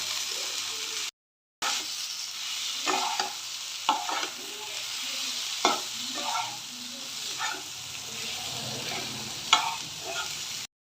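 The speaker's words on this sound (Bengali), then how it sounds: "ভালো করে নেড়ে চেড়ে মিক্স করে নিচ্ছি ভাজি হয়ে গেছে" Fried pointed gourd is stirred and mixed in a pan for fish curry, with repeated scraping strokes over a continuous sizzle and one brief dropout early on.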